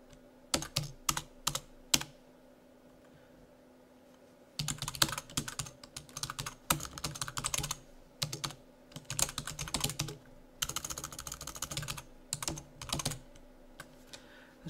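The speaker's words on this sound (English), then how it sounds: "I'm going to click on this tweet button here and I'm going to write DCP example banner." Keys clatter on a computer keyboard as a tweet is typed, quick bursts of close, crisp clicks broken by short pauses, with no voices.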